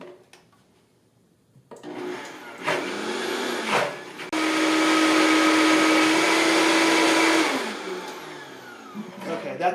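A blender purees mangoes into a thick puree, with a few short bursts followed by a loud sustained whir of several seconds that winds down, then quiet kitchen sounds.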